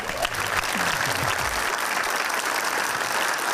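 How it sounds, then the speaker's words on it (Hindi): Studio audience applause on a family comedy show, a steady dense wash of clapping that holds evenly throughout, with a brief voice at the start. "तालियां"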